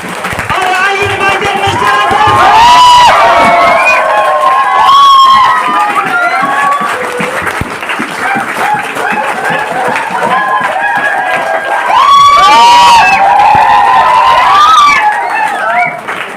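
A crowd at an RCM business celebration claps together in unison on a leader's cue, loud and rhythmic, while a voice talks and shouts over the clapping throughout.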